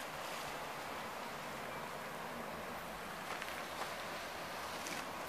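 Mediterranean Sea waves wash against the rocky shore below a cliff at Kamenovo, a steady, fairly soft broadband rush with gentle swells and no voices.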